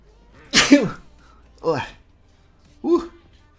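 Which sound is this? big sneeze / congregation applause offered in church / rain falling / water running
big sneeze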